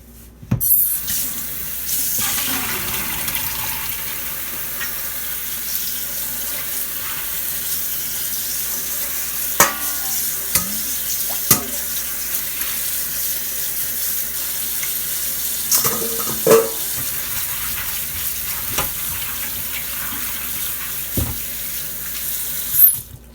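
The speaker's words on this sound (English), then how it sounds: "I'm gonna rinse this well" Steady running water from a tap pours into a sink, with occasional light clinks and splashes as lentils are rinsed under the stream.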